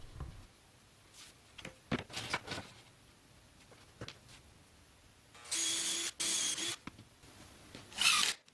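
Power drill driving screws into a plywood chair mock-up in a woodworking shop: several short whirring drill bursts and clunks, then two longer loud high-pitched runs near the end, with quiet gaps between.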